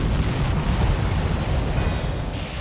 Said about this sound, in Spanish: Para acentuar aún más la destrucción de Norteamérica, se producen explosiones en el aire.